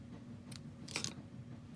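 Scissors trimming ribbon ends on a bow for a handmade card: two quick, faint snips close by, a tiny one followed by a slightly louder cut, over low room hum.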